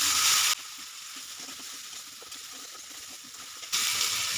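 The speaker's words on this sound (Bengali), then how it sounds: "মটরশুঁটিটা আমি একসাথে একটু ভেজে নিলাম।" Green peas frying in spiced masala in a pan for a Bengali cabbage ghonto, a steady soft sizzle and hiss throughout, louder and brighter at the start and end.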